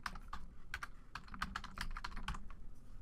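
Steady typing on a computer keyboard while entering Halloween card text in Photoshop Elements, a run of quick close key clicks with uneven rhythm and no talk.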